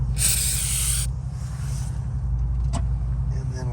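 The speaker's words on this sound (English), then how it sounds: "This mass airflow sensor spray will probably work." A short hissing burst of mass airflow sensor cleaner spray from a can onto a car door armrest, followed by a quieter second spritz and a brief click, over a low engine-like hum.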